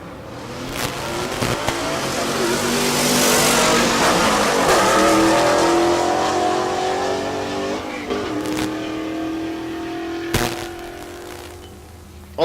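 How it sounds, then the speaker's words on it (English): A pickup truck and a 4th-generation Chevrolet Camaro launch side by side down a drag strip at Tulsa Raceway Park, engines roaring loud and close, revving hard and sustained before trailing off, with a brief tire chirp. "Left lane is Scott Smith. Smith in the 4th gen Camaro"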